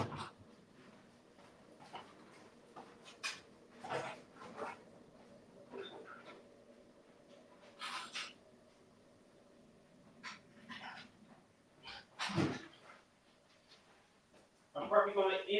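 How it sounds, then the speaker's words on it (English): Dogs come into a room, heard as intermittent panting, whimpers and scrabbling bursts over a low background hum, with a voice talking between them. "I might bring the dogs in."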